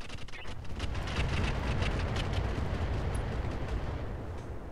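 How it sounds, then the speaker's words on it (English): Heavy mech weapons in the Roguetech battle game fire in a dense, rumbling barrage of booming blasts that holds steady and loud throughout, with no talk over it. "Fire on this guy."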